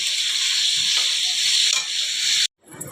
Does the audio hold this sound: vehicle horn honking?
no